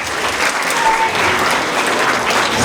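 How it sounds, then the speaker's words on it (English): An audience at a school Move Up Day ceremony applauds graduating students, a close, loud, sustained burst of clapping from many hands that carries steadily throughout. "Let's give them a round of applause."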